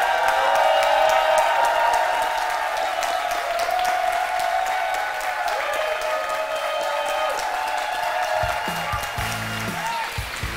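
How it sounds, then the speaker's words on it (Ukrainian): Sustained audience applause fills a small art cafe during a staged debate performance, dense continuous clapping with a few cheers, tapering slightly near the end. "правий був Олександр Ковальський, то аплодуйте на його адресу."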